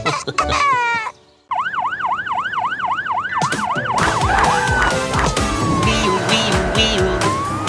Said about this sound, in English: Wee-oo, police car, go, go.